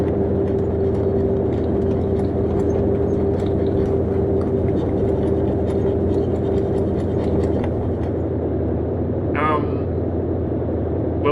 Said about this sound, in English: So I wasn't expecting us to have an engine failure straight away, but it's okay. So we're using our right engine now.